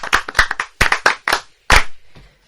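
A handful of people clap at a French lesson session in a short, uneven burst of sharp, close hand claps with brief gaps between them.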